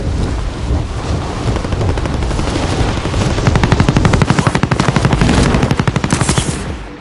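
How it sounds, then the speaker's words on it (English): Hostile gunfire rattles in fast automatic bursts against a dense, roaring background, the rapid repeated reports growing more distinct in the second half. "Receiving hostile fire."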